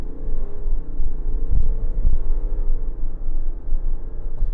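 A 2022 GMC Yukon XL SLE's 3.0L Duramax diesel engine revs with a low, throaty rumble, swelling and easing in a few surges, loud and close with no voices.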